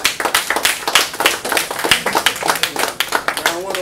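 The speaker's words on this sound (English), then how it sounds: "Clap it up, clap it up." Crowd at a battle rap event claps in loud, sharp bursts close by, uneven hand strikes mixed with voices talking and calling over the clapping.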